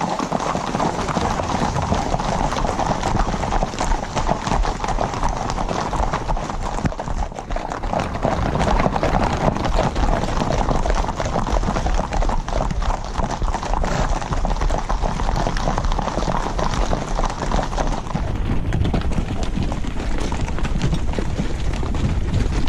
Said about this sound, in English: The horses are already saddled up and hitched up.